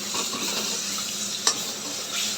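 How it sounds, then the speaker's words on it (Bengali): Garlic goes into a pan of softened onions for a mutton curry and fries with a steady close sizzle, stirred along the way, with one sharp utensil clink near the middle. "পেঁয়াজটা একটু মজে এসছে এবার দিয়ে দেবো রসুন"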